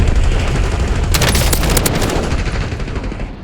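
Shotgun blasts in a first-person shooter video game, a quick cluster of sharp, loud reports over a steady roar of background battle noise, then fading.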